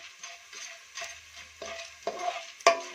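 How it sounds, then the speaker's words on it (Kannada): Edible gum (gond) frying in ghee for Gokak karadantu, a soft sizzle broken by a few spoon strokes and scrapes, one sharper clink near the end, close and fairly quiet. "ಅಂಟನ್ನ ತುಪ್ಪದಲ್ಲಿ ಈ ತರ ಹುರಿದು ನಾನು ಪ್ಲೇಟ್ಗೆ ಎತ್ತಿಟ್ಕೊಂತೀನಿ"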